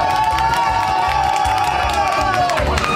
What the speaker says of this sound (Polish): Brawa, oklaski i jedziemy.